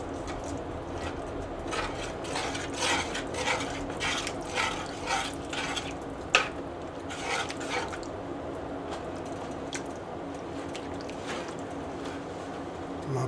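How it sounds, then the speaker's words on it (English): A spoon scrapes and stirs enchilada casserole ingredients in a cast iron pan, a continuous close rasping and clattering texture with wet gloppy movement and one sharp knock. "Stir it all up."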